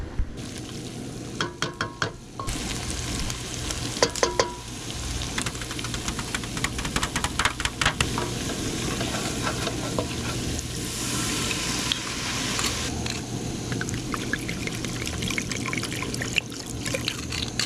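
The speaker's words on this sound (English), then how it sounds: "I put about a cup to half a cup of white wine in there to deglaze the pan" White wine hits a hot pan to deglaze it alongside garlic, a bubbling, crackling sizzle with scattered sharp clicks and stirring scrapes, moderately quiet and continuous.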